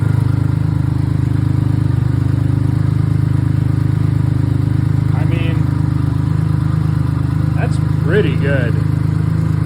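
A BMW K75 motorcycle engine idling just above 1,000 RPM, a steady, close, even drone throughout, with a person briefly speaking over it.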